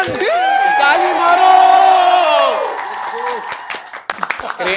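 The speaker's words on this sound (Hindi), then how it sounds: "ताली मारो." Stadium crowd of football fans cheering and shouting with some clapping, a loud sustained roar with rising whoops that fades into scattered claps and voices near the end.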